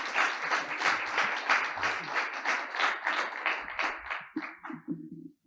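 Audience applause after a round-table discussion at a French conference on inclusive sport. The clapping is steady and fairly close, then thins out toward the end as a voice begins speaking.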